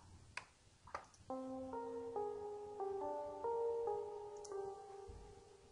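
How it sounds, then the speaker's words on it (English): A synth melody in a UK drill beat built in LMMS plays a series of stepped sustained tones while its filter frequency is automated lower before the drop, quiet and with no voices. "changing frequency using automation during the song."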